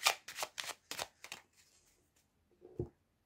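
A deck of Lenormand cards being cut and shuffled, with a quick run of five or six crisp riffling flicks followed by a soft pause and one duller tap as the deck settles, close and quiet.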